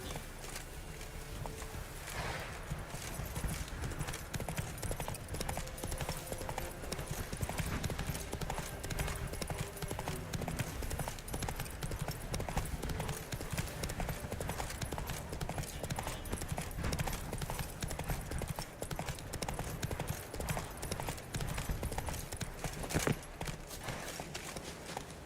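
Hooves of Roach, Geralt's horse in The Witcher 3, clip-clop steadily at a walk for the whole stretch, close and fairly loud over game ambience and background music.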